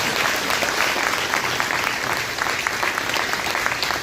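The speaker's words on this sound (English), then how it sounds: "Let's give them a big hand clap for coming out tonight" Attendees at a community club pasta dinner give county commissioner candidates a round of applause, with sustained, fairly loud and thick clapping that holds steady from start to finish.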